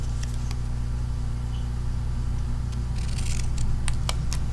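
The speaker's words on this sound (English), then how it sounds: "I'm going to use my scissors, my snips," Metal snips trim material in a garden setting, a few sharp clicking cuts near the end over a steady low hum of background noise.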